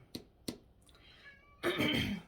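A cat meows close by, with two short sharp calls followed by a softer drawn-out one and then a louder, longer meow, in an otherwise quiet room.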